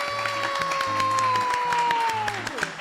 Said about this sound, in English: Let's give a round of applause for Dazia Posner.